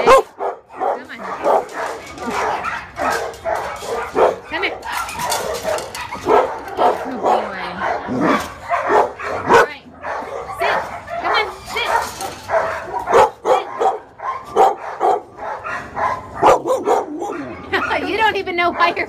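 Several dogs at an animal shelter bark, yip and whimper in repeated bursts, close and loud, with a person talking among them.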